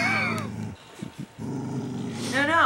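A dog growls and barks at an electric heater indoors, with low throaty growls and sharper barks starting and ending the stretch and a brief gap in the middle, all close and loud. A person talks over part of it.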